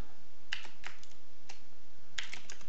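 C# code being typed on a computer keyboard, a few scattered close key taps and short bursts of clicks in a quiet room.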